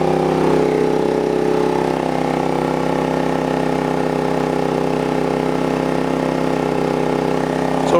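A Sportsman GEN3500i inverter generator runs in economy mode under a 1500-watt load, recorded point blank: a loud, steady engine drone with a constant hum and no change in pitch throughout.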